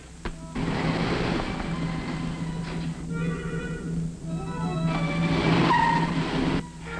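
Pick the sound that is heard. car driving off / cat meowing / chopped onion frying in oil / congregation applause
car driving off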